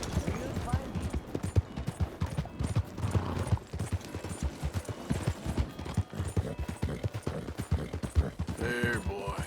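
Rhythmic clip-clop of horse hooves trotting steadily in Red Dead Redemption 2, fairly close, with a brief whinny toward the end.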